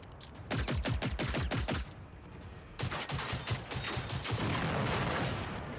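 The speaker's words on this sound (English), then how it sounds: "I do love how these guys fall apart as you're shooting them." Rapid bursts of gunfire tear into robots in the video game Generation Zero, with dense repeated volleys, a short pause, then sustained loud shooting and clattering debris.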